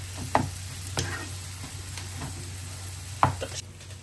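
Tuna pieces fry in a pan with a soft continuous sizzle, punctuated by a few sharp clinks of a utensil against the pan, with no voices.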